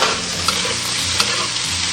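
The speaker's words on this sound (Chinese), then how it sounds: "放入葱姜蒜、八角、香叶、桂皮、干辣椒，再把这些大料跟料头全部炒香" Scallion, ginger, garlic, star anise, bay leaf, cinnamon and dried chili stir-frying with pork in a wok, a loud dense sizzle close up with a couple of sharp spatula clicks, no voices.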